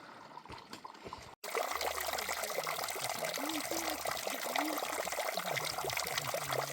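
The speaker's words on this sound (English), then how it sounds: "We got a little water in the creek below." A small creek trickles below a hiking trail in a burned area, a steady close wash of running water that starts abruptly after a short quieter stretch, with faint low voice-like sounds mixed in.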